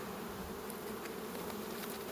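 Honeybees buzz around their hives, a continuous close drone of many insects holding steady and fairly quiet throughout, with no voices.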